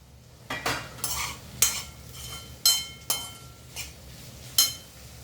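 Cabbage and chana dal curry stirred in a pan with a spoon, giving a few sharp scrapes and clinks against the metal over a faint sizzle, spaced irregularly and heard close with no voices.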